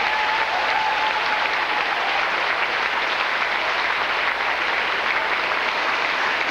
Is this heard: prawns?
no